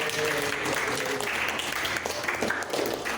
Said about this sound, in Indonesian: Boleh tepuk tangan sekali lagi untuk mereka berdua